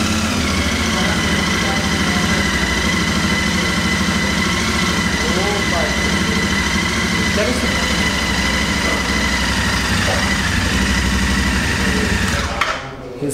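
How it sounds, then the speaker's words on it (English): A 650 cc motorcycle engine idles in a close, steady, even hum that holds for several seconds before cutting off near the end, with a voice talking faintly over it. "So amazed to see that this 650 engine is not even that vibrant."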